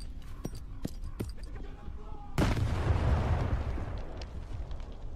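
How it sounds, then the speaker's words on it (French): Grenade blast in the video game Stalker 2: a sudden loud broadband boom erupts after a few scattered gunshot-like pops, then rolls into a long, noisy rumbling decay that fades slowly over several seconds. "Oh, grenade."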